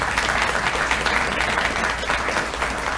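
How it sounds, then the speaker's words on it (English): A large audience at a city's State of the City presentation applauds loudly for an arts foundation, a dense, sustained wash of clapping close by for about three seconds, with no talking. "Let's give a big round of applause to the Apple Valley Arts Foundation"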